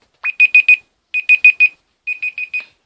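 Three bursts of rapid electronic beeping, four high-pitched beeps each, sound loud and close with short silent pauses between groups, like a kitchen timer going off.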